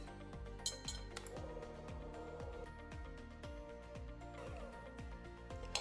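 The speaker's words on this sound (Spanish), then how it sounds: "voy a agregar aquí mi queso crema y voy a comenzar a batir" Cream cheese whisked by hand in a bowl for a no-bake dessert, the whisk clinking steadily and rhythmically against the bowl in repeated strokes, close and fairly quiet with no talking.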